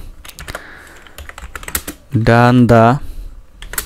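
Quick clicking keystrokes on a computer keyboard, close and crisp in irregular bursts, with someone speaking briefly and a short sustained tone partway through.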